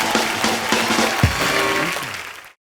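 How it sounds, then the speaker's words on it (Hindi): Studio audience on a TV comedy show, The Kapil Sharma Show, breaking into sustained clapping and cheering that fills the moment, then cuts off abruptly at the end. "एक बार अमाल, काजल और रणदीप के लिए जोरदार तालियां हो जाएं।"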